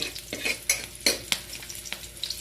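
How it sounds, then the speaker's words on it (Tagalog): Garlic browns lightly in a pan while a utensil stirs it, giving a soft sizzle broken by several sharp, close clinks and scrapes at an uneven rhythm, with no talking. "Ginisa na po natin ng bawang. Medyo ba-brown lang po natin konti."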